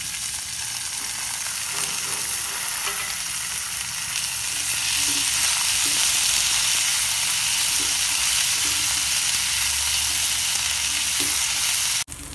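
Onion and curry leaves sizzling in hot oil in a pan while a Tamil sundaikai gravy is cooked, a steady loud frying hiss with occasional stirring scrapes, and no talk.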